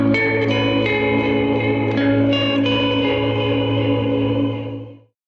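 A four-bar electric guitar lick loops with a steady sustained low note beneath bright picked melodic notes, washed in reverb and chorus-like effects, continuous and loud before fading out at the end.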